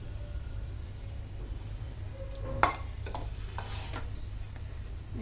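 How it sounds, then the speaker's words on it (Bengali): Chicken biryani meat is stirred in a pot, with a sharp utensil scrape or clink partway through and a few soft scraping taps after it, over a steady low background hum. "এখন নেড়ে দিচ্ছি।"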